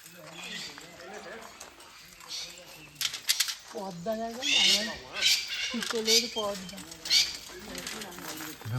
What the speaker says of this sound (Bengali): আমরা একদম পাখির সামনে চলে এসেছি